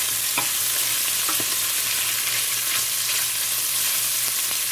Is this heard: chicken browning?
yes